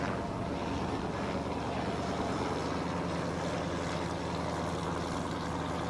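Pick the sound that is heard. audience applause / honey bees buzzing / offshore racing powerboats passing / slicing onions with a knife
offshore racing powerboats passing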